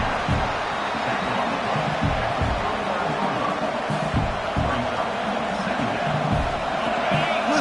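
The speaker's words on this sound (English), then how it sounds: "Listen to the crowd energy here in the early going" A large stadium crowd at a Tennessee vs LSU college football game roars continuously, a dense wall of cheering and shouting with muffled thumps, loud and sustained throughout.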